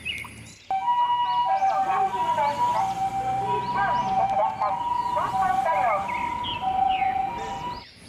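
Electronic siren tone from a small toy ambulance, steady and wavering close by, with chirpy melodic beeps on top and someone talking over it through most of the clip.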